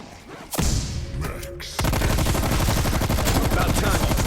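Gunfire in Call of Duty: Black Ops Cold War, a burst of shots followed by a sustained rapid automatic barrage, loud and continuous to the end.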